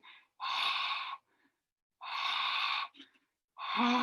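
A human voice imitates a tired dog panting, giving three long breathy exhalations separated by short silences, close and clear.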